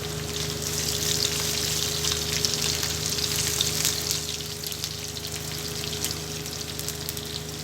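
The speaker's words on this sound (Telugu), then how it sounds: "ఆయిల్ వేడైన తర్వాత జీలకర్ర, ఆవాలు, వెల్లుల్లిపాయ, ఎండుమిర్చి వేసుకోవాలి." Cumin, mustard seeds, garlic and dry red chillies frying in hot oil for a tempering for ivy gourd pickle, a steady dense crackling sizzle close by, with a faint constant hum underneath and no talking.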